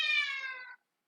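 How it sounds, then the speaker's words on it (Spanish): A pet cat gives a single clear meow, close and fairly loud, lasting under a second before silence. "Es mi gato."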